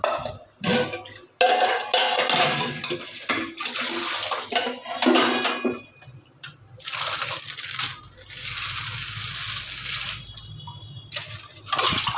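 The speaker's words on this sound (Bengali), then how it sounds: "এবার থালা বাসনগুলো ধোবো।" Dishes clatter and scrape under running tap water, with bursts of flowing water interrupted by short pauses.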